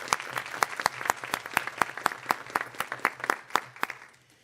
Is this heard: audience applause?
yes